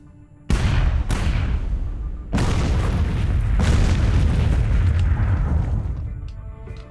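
Cannon fire in the video game Miner's Mettle: three heavy booming shots in quick succession, then a fourth that rolls into a long, loud rumble fading out over several seconds, with no talking.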